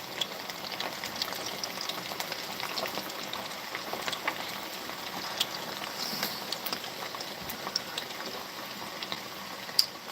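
Frying oil sizzles in a pan while a burger is cooked, a dense, steady crackling hiss with occasional sharper pops, moderately close and continuous with no talking.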